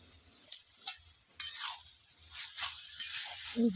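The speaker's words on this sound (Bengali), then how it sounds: "ভালো করে এটা নাড়াচাড়া করে নেব ভালো করে একটু কষা হবে" Cabbage and potato stir-fried over low heat in a pan, with a steady faint sizzle under repeated scraping and turning strokes and a light clink at the end; no voices.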